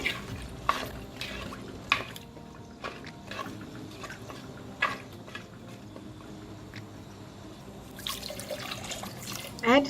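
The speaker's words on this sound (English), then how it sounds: "Add sufficient water to cook the taro." Water is added to a pot of taro while cooking a spiced coconut yoghurt gravy: a soft, steady splashing and trickling with occasional louder clinks and drips, close and moderately quiet, with no talking over it.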